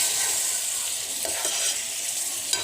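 Boiled rajma stirred and frying with ginger garlic paste in a pan, giving a loud continuous sizzle with a few scraping stirs of a spoon.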